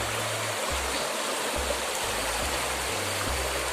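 Water from a waterfall and a stream pours steadily on a mountain outing, giving a constant, full rushing wash with no voices.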